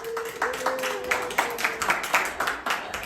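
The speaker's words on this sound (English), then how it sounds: "Give her a round of applause." A small group claps for a child during a lesson about owls, uneven separate hand claps in a loose rhythm at moderate distance, with a voice briefly heard alongside.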